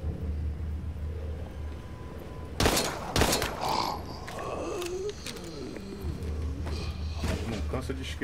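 Gunfire in the video game Daymare: 1998 cracks out in two or three sharp bursts amid rumbling and electronic tones, with a voice talking over the action.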